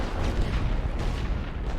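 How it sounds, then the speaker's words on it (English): Artillery barrage in The Great War: Western Front, a continuous low rumble of distant shelling and booms rolling together without clear gaps, dense and steady throughout. "so I'll hit them with artillery"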